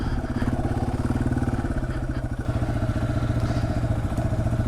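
A Yamaha TW200 motorcycle rides a rough wooded trail over trees and rocks, its single-cylinder engine chugging loud and close in a steady pulsing rhythm with rattles from the bike.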